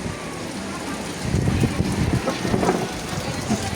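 Steady rain patters on a shop's surfaces, a dense hiss with scattered drops, moderately loud and close with murmuring voices faintly beneath.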